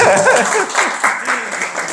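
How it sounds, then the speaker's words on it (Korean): Members of a Buddhist youth group at a temple lecture give a short round of applause to welcome two newcomers. Brief, fairly close clapping mixes with a speaking voice. "박수 한번 칩시다"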